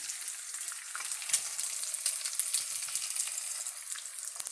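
Food fries in bacon grease in a very hot pan, making a steady close hiss of sizzling with faint scattered pops and light stirring clicks, and no one speaking.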